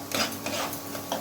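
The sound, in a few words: stirring ginger garlic paste in a pan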